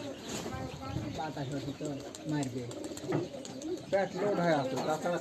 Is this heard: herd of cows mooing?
no